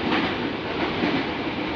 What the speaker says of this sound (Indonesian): turunnya tuh di stasiun Cawang aja, Francis, karena kereta ini kan jauh lebih cepat daripada naik bus.